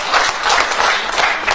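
A theatre audience applauding at an anniversary evening in the Griboedov Theatre, dense close clapping from many hands in a steady roar that runs through the whole short stretch.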